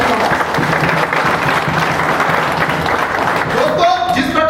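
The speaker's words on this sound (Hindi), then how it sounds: "एक बार जोरदार आप सभी के लिए ताली बजाओ।" An audience claps loudly and steadily at a Hindi motivational seminar, a dense wash of applause from a large crowd with some cheering, lasting throughout.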